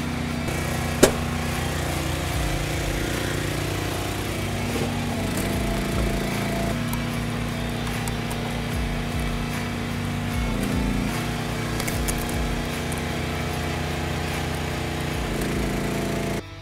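A RuggedMade log splitter's small engine runs steadily through a timed split. The hum shifts in pitch as it works, a sharp click lands near the start, and the engine cuts off at the very end.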